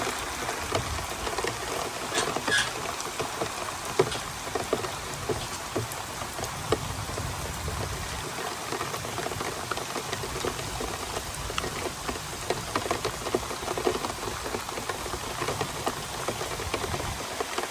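Heavy rain pouring down on a village, a steady dense hiss of drops on surfaces with scattered louder patters, continuous and even throughout with no voices.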